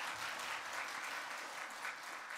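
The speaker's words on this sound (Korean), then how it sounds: "우리 다시 한번 박수로 축복해 주시기 바랍니다" Dense, steady applause from a church congregation at a Korean Full Gospel Sunday service, a close, continuous wash of many hands clapping without a break and with no voices over it.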